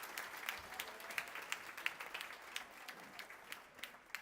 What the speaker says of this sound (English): quick round of applause for some of our dignitaries here this week and our volunteers